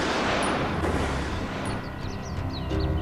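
A rifle volley from a firing squad of five shooters, heard as a dense, loud burst of gunfire that stays sustained and rumbling throughout, with no talk.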